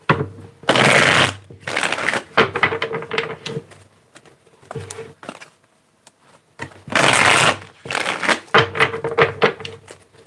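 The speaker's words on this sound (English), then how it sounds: "Let me get 3 more shuffles here." Tarot cards are shuffled in repeated riffling bursts, crisp papery flutters and taps close up, with short pauses between rounds.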